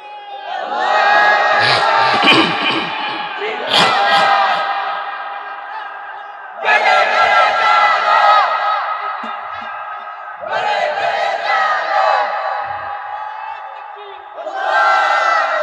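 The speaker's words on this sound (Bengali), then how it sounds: "স্লোগান দেন না আল্লাহু আকবার" A large crowd at an outdoor Islamic religious sermon gathering in Habiganj, Bangladesh, loudly shouts the chant Allahu Akbar in four massed bursts, each roaring up together and then fading between repetitions.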